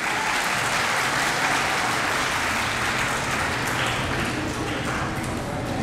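Students and guests at a school annual function applaud together in a steady, dense wash of clapping that fills the hall without pause.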